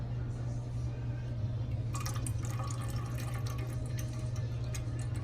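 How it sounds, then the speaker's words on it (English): Melted soy wax for a crackling birch candle dribbling as it is poured, a thin trickling splash that starts partway through and keeps going over a steady low hum, fairly quiet and close. "Let that dribble a little so it gets up to the amount that I need."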